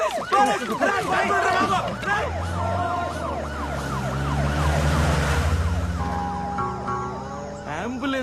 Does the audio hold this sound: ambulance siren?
yes